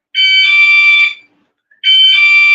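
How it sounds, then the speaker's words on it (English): A home doorbell sounds as two loud, sustained electronic tones, each about a second long, separated by a short silence, with no talking. "That was my doorbell."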